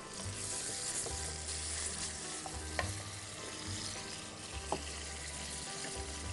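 Chopped onions fry in hot mustard oil with a steady, close, crackling sizzle throughout, broken by occasional stirring scrapes and light clinks.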